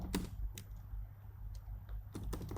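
Computer keyboard clattering in several short bursts of keystrokes as code is typed, fairly close and moderately loud against a steady low hum, with no talk.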